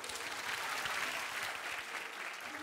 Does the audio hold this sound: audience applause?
yes